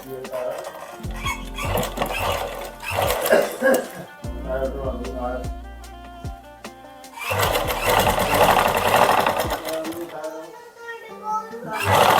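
Sewing machine running in short bursts while stitching lace along the neckline of a designer suit, close and fairly loud with pauses between runs, someone talking over and between the stitching.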